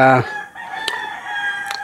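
A rooster's crow, the tail of a long call opening loudly and then tapering into a steadier drawn-out tone with faint background noise, alone without talk.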